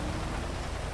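Steady rain falls at night in the video game GTA 5, a constant close hiss of drops that fills the whole second with no talk over it.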